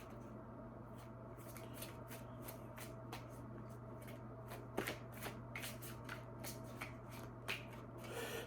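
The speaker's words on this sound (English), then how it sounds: "I will cut the deck." A tarot deck is cut and shuffled by hand, giving a steady run of crisp riffling card flutters and soft slaps, close and fairly loud, over a constant low hum with no talking.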